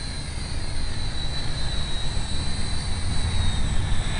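A radio-controlled propeller airplane flying at high rate, its electric motor giving a steady, continuous whine with a bright high tone and a broad rushing hum, constant in level throughout.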